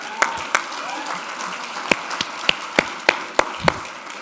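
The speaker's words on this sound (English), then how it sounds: "Hey, Jay, give him a round of applause." A thin round of applause from a small coaching audience, mostly scattered individual claps with a soft clapping wash underneath, no voices.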